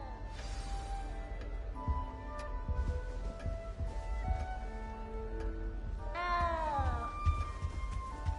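A cat in Hogwarts Legacy meows repeatedly at close range, a few drawn-out, rising calls over a quiet game ambience with background music.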